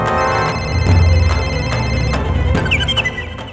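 A mobile phone ringtone plays a bright repeating melody from a phone swallowed by a buffalo, fairly loud and close, with no voices.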